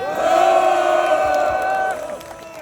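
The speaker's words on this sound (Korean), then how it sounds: "우리 멋진 연설해 주신 우리 고영주 변호사님께 뜨거운 함성을 보내주시기 바랍니다" A crowd at an outdoor Korean War memorial event in Yongsan roars and cheers loudly after a speech, voices sustained and dense, then tapering off toward the end.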